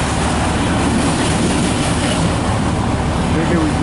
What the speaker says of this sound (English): If this train was going fast, we would miss the engine.